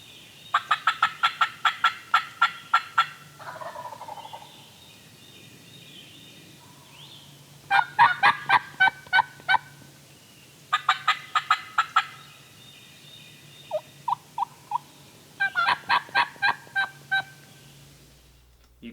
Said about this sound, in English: You can tell there we ignored the gobble of the close turkey and only addressed the gobble of the far turkey.